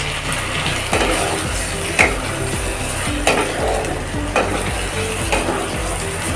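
Fried potatoes are stirred into fish curry masala for shol macher kalia, a continuous sizzle broken by regular utensil scrapes and knocks against the pan every second or so.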